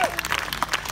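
A short burst of audience applause at a jazz festival in Salem, Virginia, scattered hand claps for the John D'earth Quintet heard close and bright under crowd murmur.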